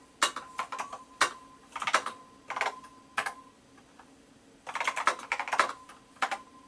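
Bursts of clicking keystrokes on a NABU computer keyboard, typed in quick irregular clusters with short pauses between, fairly close and moderately quiet.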